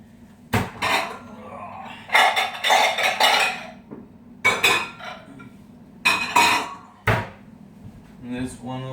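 Mixing bowls are set down on a kitchen counter for making cornbread, several sharp clinks and clatters in separate bursts, with faint background sounds between them.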